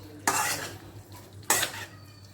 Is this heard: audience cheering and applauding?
no